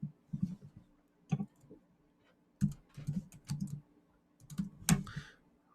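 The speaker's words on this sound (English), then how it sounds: "Okay, now I click next." Computer input clicks while working in Google Forms come in small clustered bursts over a few seconds, crisp, close and quiet, with no talking.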